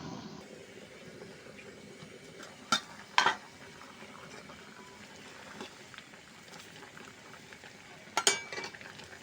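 A dried fish curry with eggplant and potato is stirred in a pot, a soft bubbling simmer broken by a few sharp scraping clatters of the spoon, near and otherwise quiet.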